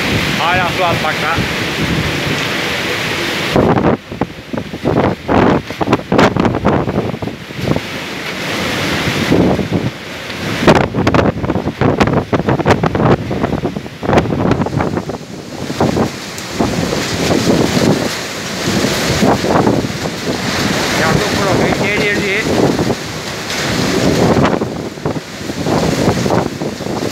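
A storm on the Ahmetbeyli coast, with heavy wind buffeting the microphone, rain and rough water, a loud continuous roar that surges and gusts throughout, close and overwhelming.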